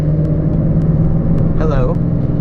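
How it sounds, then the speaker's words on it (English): A loud purple Chevrolet Camaro rumbles nearby on the road, a steady low engine drone filling the whole stretch while a voice talks over it. "we got the purple Camaro to our right. Reckon being obnoxiously loud as well"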